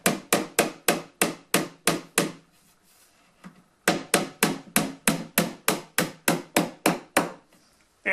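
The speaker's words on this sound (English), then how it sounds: "when I'm hammering in this dowel into the shelf here, through to the separator" A hammer drives a wooden dowel through an IKEA KALLAX shelf into the separator: sharp, loud, evenly spaced blows, about ten in a row, a short pause, then another similar run, with no talking.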